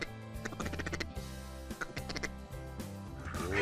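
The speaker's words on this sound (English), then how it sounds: "Ooh, look at all the ducks." Ducks quack in rapid overlapping bursts near a Nebraska duck hunt, with a dense layered chorus of calls throughout and a sharper sound at the end.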